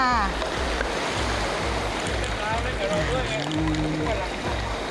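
Fast-flowing water rushes steadily through a stream at the Wang Mai Pak waterfall in Khiri Wong, Lan Saka, Nakhon Si Thammarat, loud and continuous, with someone talking over it.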